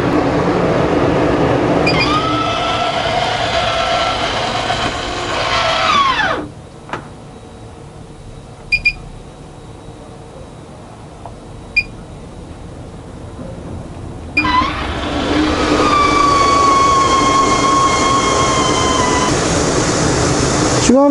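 A MaxxFan roof vent fan in a Starex camper van runs with a loud, steady whooshing drone and faint whine. It cuts out for several quiet seconds, broken by a couple of small clicks, then starts up strongly again.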